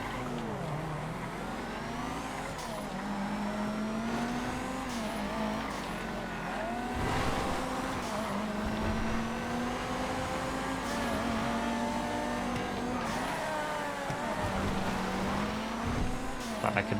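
Off-road GT1 race cars in the GTA FiveM video game, engines droning and rising through gear changes over a long continuous stretch, with occasional tire squeal and faint commentary underneath.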